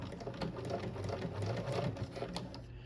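A sewing machine with its dual feed engaged stitches through vinyl in a slow, steady run of rapid close clicking and humming, continuous and near, with no talking.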